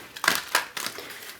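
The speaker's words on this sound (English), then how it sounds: "one more shuffle" Tarot cards riffled in one last shuffle: a few quick papery crackling bursts, close and fairly loud, with no talking.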